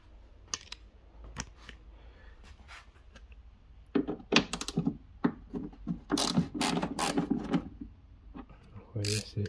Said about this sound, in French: je prends une clé à cliquer